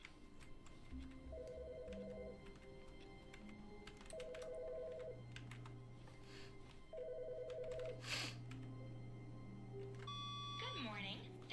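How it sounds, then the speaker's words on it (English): An office telephone rings in the video game The Stanley Parable, three bursts of a trilling electronic ring spaced evenly apart, with a low hum and faint ticks underneath, then a click and beeping at the end. "There's a phone ring."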